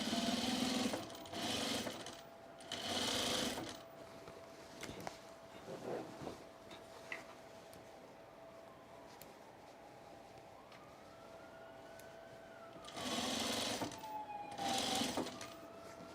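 Sewing machine stitching through overall fabric in several short bursts, running a few seconds each with quiet pauses between, close by and moderately loud, with a faint hum in the background.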